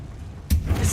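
A single sudden Confringo blasting-spell explosion in Hogwarts Legacy bursts out after a quiet moment, loud and booming, followed by a rumbling tail.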